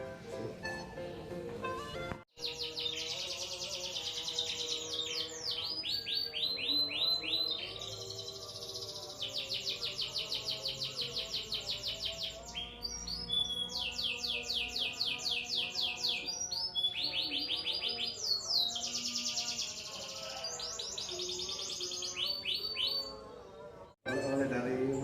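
A canary sings continuously in long trilling, warbling phrases with rapid rolling chirps, loud and close, the song running on for the whole stretch with only brief pauses.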